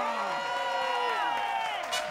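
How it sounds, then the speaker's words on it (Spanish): An audience at a live comedy show claps and cheers, a moderate roar of crowd noise with a few whoops, while voices speak over it. "¡Fuerte el aplauso!"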